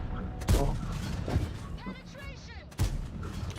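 Tank cannon shots boom in a video game, three heavy blasts spaced about a second apart with a whistling, warbling tone between them.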